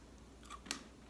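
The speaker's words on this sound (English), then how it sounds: "The cookie is crispy and crunchy." A crispy, crunchy cookie with a creamy filling, a single quiet crisp crunch of a bite followed by a faint chewing click, close and soft against a quiet background.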